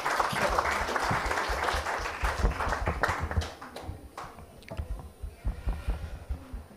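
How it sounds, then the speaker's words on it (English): An audience at a sustainability education conference closing ceremony claps to welcome a speaker, starting as dense loud applause, then thinning into scattered individual claps. "Welcome him with your claps."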